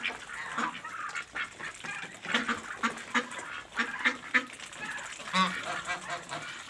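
Farm poultry, turkeys among other birds, call from inside a poultry house in a rapid, overlapping run of honks and squawks at close range. No one speaks.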